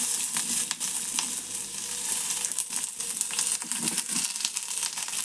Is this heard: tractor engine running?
no